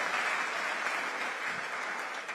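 Steady audience applause fills a hall at an awards ceremony honoring top exam candidates in Ghana, a dense, even wash of clapping that holds for a couple of seconds.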